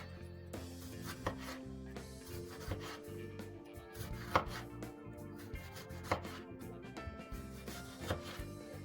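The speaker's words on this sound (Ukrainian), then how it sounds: "Тепер швидесенько нарізаємо помидорчик." Knife chopping a tomato on a cutting board for a cabbage dish, a steady run of close, crisp cuts with a few louder knocks, no talk.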